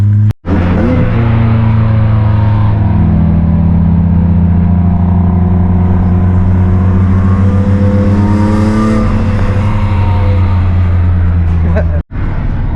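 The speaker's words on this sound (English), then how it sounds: "we just showed up and there's hella traffic" Idling and creeping cars in heavy traffic outside a Cars & Coffee car meet in Orange County, a steady low engine drone with rising and falling revs close to the microphone, briefly interrupted near the start and end.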